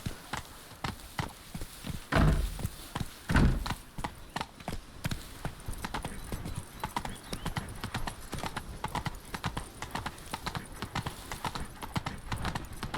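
Roach, a horse in The Witcher 3, gallops in a steady clip-clop of hooves that runs through the whole stretch, with two heavier thumps early on and a faint snort or whinny in the mix.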